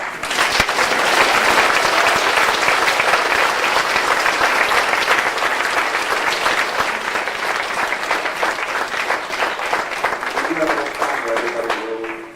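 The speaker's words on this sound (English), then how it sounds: "Round of applause." A loud, sustained round of applause from a large crowd at a 1997 convention voice actor panel, dense continuous clapping in a big room that fades toward the end as a voice comes in.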